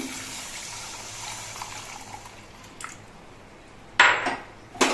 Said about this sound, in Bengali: এবার এর মধ্যে আমি দইয়ের বাটিটা ধুয়ে নিয়ে এক বাটি জল দিচ্ছি